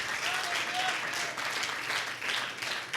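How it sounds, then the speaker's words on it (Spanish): A church congregation bursts into sustained applause at a Spanish-language Bible teaching service, steady broadband clapping filling the full clip at a moderate, even level with a faint voice threading underneath. "Denle un fuerte aplauso a Jesucristo."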